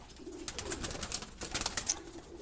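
Pigeons coo softly in a colony breeding loft, a few low calls overlapping at close range along with light rustling.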